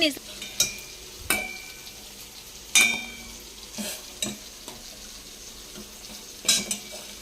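A utensil scrapes and clinks against a pot while vermicelli cooks in boiling water, giving a handful of sharp, irregular metallic taps over a quiet bubbling background.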